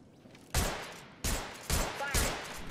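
Four loud, sharp gunshot bursts from a video game firefight, spaced apart, with no talk over them.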